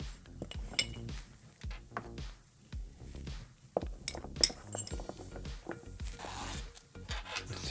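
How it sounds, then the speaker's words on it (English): Two small screws dropped and fitted into the case of a DJI Focus Pro Creator Combo, giving close, quiet metallic clinks and rubbing taps in an irregular run, with no talking. "Two screws so they don't rattle around. Pop them in there."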